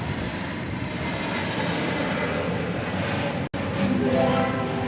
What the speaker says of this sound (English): American Airlines Airbus A321neo, arriving from Seattle